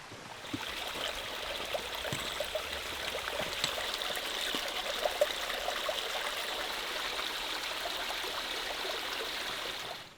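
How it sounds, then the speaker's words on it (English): Gentle mountain streams trickle and babble through a low gully on the Kumano Kodo pilgrimage trail in Japan, a steady close wash of running water lasting throughout with no voices. "taking us into a low-lying gully crisscrossed with gentle mountain streams"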